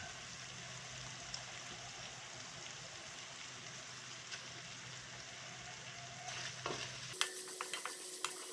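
Pork cubes for carbonara fry in a pan with a loud, dense, continuous sizzle like steady rain, then a few scrapes and clatters of stirring as the sizzle drops away near the end; no talking.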